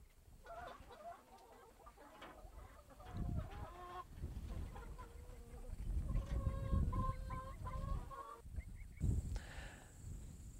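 Broiler chickens on a pasture farm cluck and call repeatedly, a busy flock of fowl close by, their overlapping vocalizations rising and falling with no talking.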